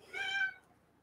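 A house cat lets out a single drawn-out, fairly loud meow close by, which fades quickly into quiet room tone.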